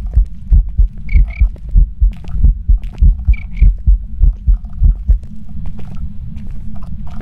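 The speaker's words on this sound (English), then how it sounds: "I'm hearing my heartbeat right now." Loud, steady heartbeat thumping in a rhythmic lub-dub pattern, close and dominant, during a tense moment in a game, with brief high croak-like tones over it.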